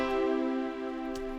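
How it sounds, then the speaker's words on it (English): A short sustained chord with a steady, bright tone, held evenly for just over a second with no talking. "So firstly, you have the major chord. The major chord sounds like this."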